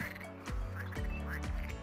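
Ducks quack in the farming video game Farming Simulator 19, with about four loud nasal quacks in a steady, even rhythm over continuous background game sound.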